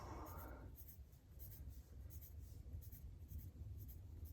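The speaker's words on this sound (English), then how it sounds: "I make a mark like this, and then I just draw circles" Pencil drawing circles on paper, a faint, steady scratchy scraping close by with soft rhythmic strokes and no talking.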